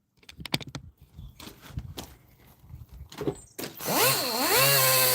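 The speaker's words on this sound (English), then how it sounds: "Back with the polisher again." An electric polisher sands the surface of a Honeywell Turbovisor DTVR during refurbishment, starting after a few scattered knocks and clatters and then running as a loud, steady whine with a wavering pitch for the last second and a half.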